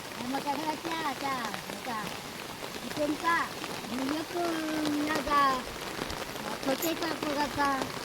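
Heavy monsoon rain pours steadily in the Konkan countryside, a dense constant wash running under lively voices talking and exclaiming throughout.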